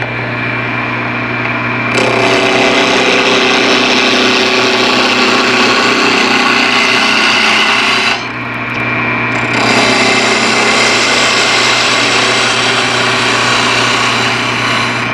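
A wood-turning lathe runs steadily with a loud, continuous whir and hum, briefly dropping off for about a second before spinning back up; no one speaks.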